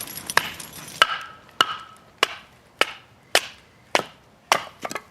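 A Buck Punk knife with a 3/16-inch spine is batoned through wood, giving about nine sharp, evenly spaced chopping cracks roughly half a second apart, each ringing briefly before the next, with no voices.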